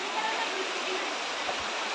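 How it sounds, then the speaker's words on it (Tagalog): A river flows under a bridge, giving off a dense, constant rushing hiss at close range without pause. "Ayan ang ilog."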